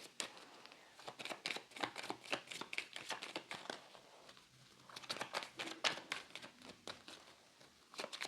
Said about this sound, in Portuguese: É a realidade mesmo aqui das cartas caindo